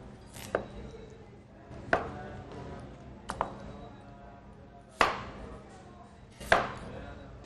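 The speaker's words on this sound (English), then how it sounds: "My potato, I'm going to cut up in wedges." A knife chops through a potato on a cutting board, cutting it into wedges for a vegetable dish, with five sharp, close thuds spaced irregularly and a faint steady hum between them.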